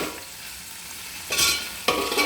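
Ginger garlic fries in a pan, heard as a soft background hiss broken by two sudden bursts of louder sizzling, as if the pan were stirred or tilted.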